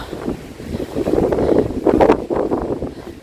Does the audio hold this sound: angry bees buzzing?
no